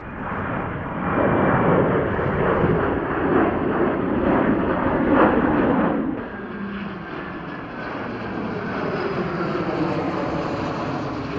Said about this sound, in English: an aircraft that will be a regular sight for people who live here near Adelaide, the P-8A Poseidon Maritime Patrol aircraft